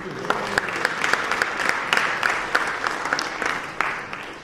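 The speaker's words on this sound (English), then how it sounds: "Clap it up for the people on stage" Crowd at a village trustee debate applauds the people on stage, a steady wash of clapping with sharper individual claps standing out, lasting throughout at moderate loudness.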